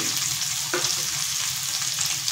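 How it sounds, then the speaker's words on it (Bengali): Drumstick vegetable curry sizzles and fries steadily in a pan while being stirred, with a soft scrape of the spoon partway through; continuous close frying hiss, no talk. "চাপা দিয়ে 5 মিনিট কুক করার পর সবজিটা নাড়াচাড়া করে নিচ্ছি"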